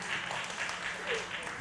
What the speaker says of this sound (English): Let's have some round of applause for the food.